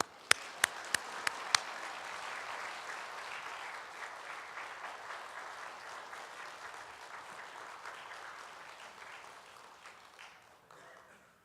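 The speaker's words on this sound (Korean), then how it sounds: "우리 뜨겁게 할렐루야로 우리 환영하면서 박수하겠습니다" A church congregation breaks into sustained applause at a late-night prayer service, a few sharp early claps swelling into a steady wash of clapping that slowly fades, heard from a distance.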